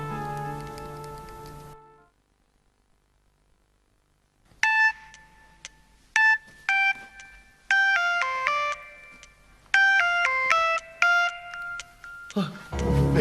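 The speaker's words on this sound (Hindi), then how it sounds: "बेगम साहब का फोन।" A mobile phone ringtone plays a bright melodic sequence of repeated chiming tones, loud and close, following a quiet pause after some earlier music.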